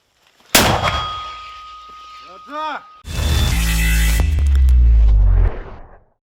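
A single sharp, loud artillery gun blast rings out and decays, followed by a deep, heavy rumbling roar that swells and fades.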